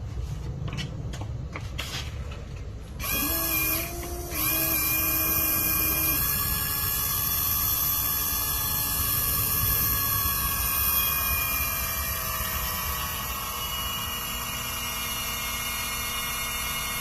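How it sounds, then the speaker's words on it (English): The hydraulic pump of an R32 GTR ATTESA four-wheel-drive system runs constantly because of a fault, starting after a few clicks into a steady high electric whine with a hum beneath it. "that causes the pump to run all the time"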